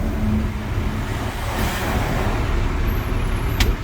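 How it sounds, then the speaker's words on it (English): A truck creeps forward and stops on its service brakes under a steady engine rumble, with a brief hiss near the end. "Now we're gonna test my service brakes."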